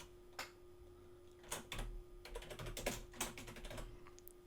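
Fingers type on a computer keyboard in bursts, quiet close clicks and taps clustered irregularly with short pauses, over a faint steady hum.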